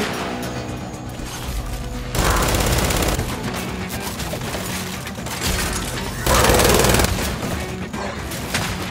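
Rapid gunfire in the video game Gears 5, Hivebusters mode, with loud sustained bursts of automatic fire and heavier blasts swelling twice amid the continuous combat din.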